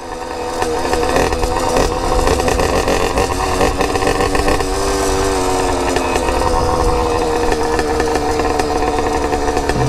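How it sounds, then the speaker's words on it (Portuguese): A loud Brandani Cross motorcycle engine drones continuously nearby, its raspy exhaust note rising and falling slightly as the rider holds the throttle. "O barulho de escapamento é da hora, mano."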